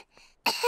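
A cartoon pig's short, sharp cough bursts out after a faint breathy moment, loud and close, trailing into a rough throaty rasp.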